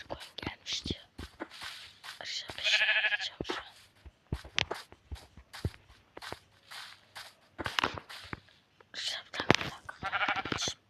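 Minecraft-style sheep bleats sound a few times amid quiet footsteps, while a person talks in Turkish and imitates the bleating.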